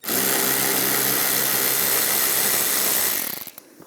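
A power tool with a 7mm socket spins out a screw from the underside of a door panel on a 2010-2017 Chevrolet Equinox, whirring loud and steady close by for about three seconds before winding down to a few faint clicks.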